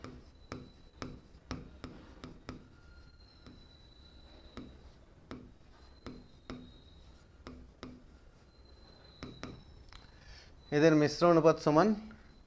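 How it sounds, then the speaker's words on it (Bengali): Handwriting on paper during a Class 7 math lesson, heard as a series of short scratchy strokes at a steady, irregular pace, fairly faint and close, with a brief burst of speech near the end. "তাহলে লিখি"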